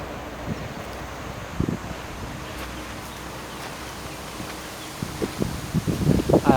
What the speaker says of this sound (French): le vent reprend